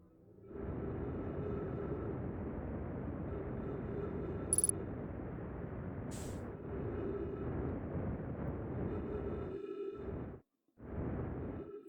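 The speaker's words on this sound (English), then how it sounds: "So the gravity cannon shoots stuff straight up." A gravity cannon in Outer Wilds gives off a sustained low roaring rumble with a faint hum, broken by a couple of brief sharp hisses and ending in a short drop-out before the rumble returns.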